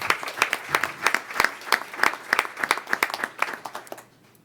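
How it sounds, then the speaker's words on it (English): Steady applause from a crowd at a school board meeting, brisk clapping throughout that thins out and fades near the end. "So we have one more round of applause for those talented young folks."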